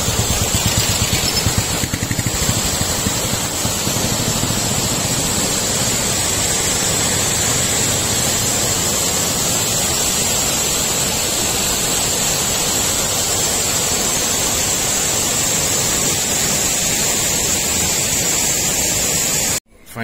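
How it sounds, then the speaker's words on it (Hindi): A mountain waterfall fed by melting snow roars in a loud, steady, broadband rush close by, continuous throughout before cutting off abruptly at the end. "तो रास्ते में ऐसे झरने बहुत मिले हमें, सबसे बड़ा पता झरना तो यही"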